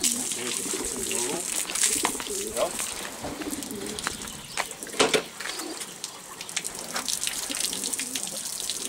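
Pigeons cooing near running water, with soft repeated rolling coos under a steady watery hiss while people talk nearby.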